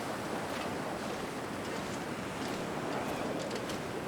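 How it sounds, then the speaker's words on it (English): Steady, loud wind roars through a snowy wilderness in the survival video game The Long Dark, a continuous broadband rush with gentle gusts and no breaks. "Yeah, it's pretty windy."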